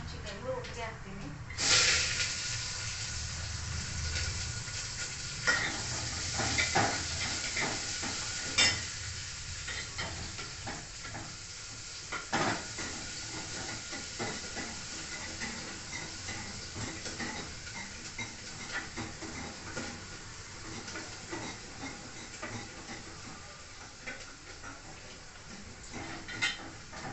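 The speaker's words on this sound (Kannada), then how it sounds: "ನೋಡಿ, ಈರುಳ್ಳಿ, ಕರಿಬೇವು, ಒಣಮೆಣಸಿನ್ಕಾಯಿ ಒಟ್ಟಿಗೆ ಹಾಕ್ತೀನಿ." Onion, curry leaves and dry chillies fry in oil with a steady low sizzle and occasional stirring scrapes, while someone talks over it almost the whole time.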